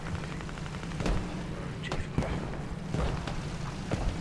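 Machine gun fire in the tactical shooter game Squad, set in an Al Basrah battle, with repeated sharp bursts over a steady rumbling battlefield backdrop at moderate loudness.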